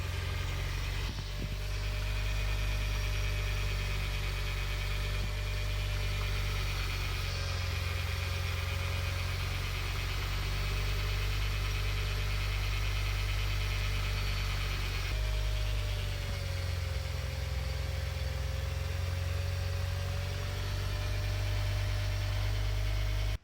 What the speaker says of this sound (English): I'm gonna start it up, and I'm gonna have a little look around with the camera.